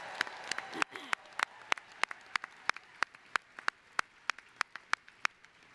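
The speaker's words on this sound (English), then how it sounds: "Another round of applause for these amazing graduates." Applause from a commencement audience at a University of Wisconsin-Parkside ceremony for the graduates, sparse clapping with sharp individual claps standing out at a steady rhythm, fairly quiet and without talk.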